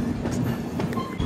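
Cocanada SF Express, train 12776 between Lingampalli and Kakinada Town, rumbles steadily at close range with a constant low hum and faint clatter throughout, with no one talking.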